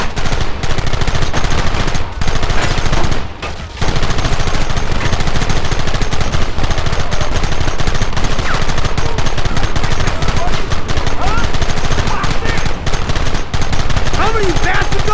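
Sustained heavy gunfire in the Western video game Red Dead Redemption, dense rapid volleys of rifle and pistol shots rolling continuously at close range, with a brief lull near the start and shouted voices buried in the din.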